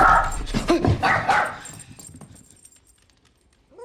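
A dog barks several times inside a cupboard in a TV drama scene, loud and close at first, then fading into near quiet before a brief whimper or yip at the end.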